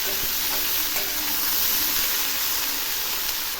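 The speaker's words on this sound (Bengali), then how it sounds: "এবার আমি নেড়ে দিচ্ছি। এগুলি এমনভাবে ভাজবো যাতে ভাজতে সেদ্ধ হয়ে যায়।" Vegetables for hilsa head curry frying in a pan while being stirred, giving a steady loud sizzle with light scraping strokes throughout and no talking.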